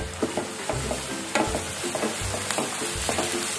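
Onions and curry leaves frying in hot oil until golden, a constant sizzle cut by rhythmic spatula scrapes and taps against the pan, close and fairly loud.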